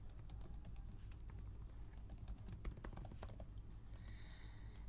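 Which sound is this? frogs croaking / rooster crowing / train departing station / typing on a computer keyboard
typing on a computer keyboard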